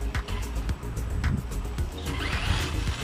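A 1/5-scale Kraken Vekta.5 brushless RC buggy drives well below full throttle on its first run, pulling to the left. Its electric motor whirs steadily and close by, with bursts of rumbling and rattling over bumps.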